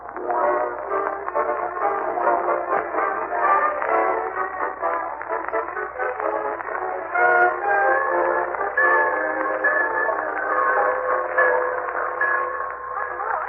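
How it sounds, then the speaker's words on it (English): A steam train rumbles and chugs steadily, with whistle-like tones rising over the clatter of the cars as it pulls into a railroad station. "As he and Marjorie and Leroy wait in the Summerfield Railroad Station for the arrival of that well-known authoress"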